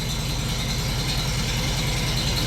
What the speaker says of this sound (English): There she goes. That's just idling.